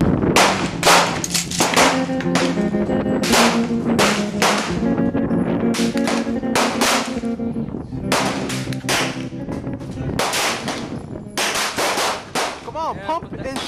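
A pump shotgun fires at a shooting range: loud, sharp blasts follow one another in quick, uneven succession, densely packed across the whole stretch with no pauses and no voices.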